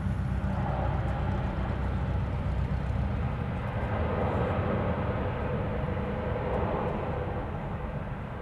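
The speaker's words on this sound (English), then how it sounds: "This is Hawaiian flight 821 coming in from Seattle. It is a Dreamliner." A Hawaiian Airlines Boeing 787 Dreamliner arriving at Honolulu airport gives a steady, loud, broadband jet roar that holds constant throughout, with no voices.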